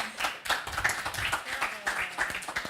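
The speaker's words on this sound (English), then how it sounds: "So ramp up that applause." A small conference audience claps after a panel session, with sparse, uneven individual hand claps close by rather than a full roar.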